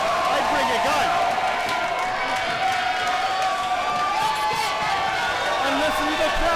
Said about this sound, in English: Listen to the crowd here at the Longboat Hall.